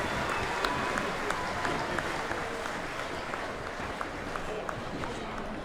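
Audience applause fills the hall after the 2023 Open Shearing Final, a steady mass of clapping running throughout with scattered sharper claps and a crowd murmur beneath.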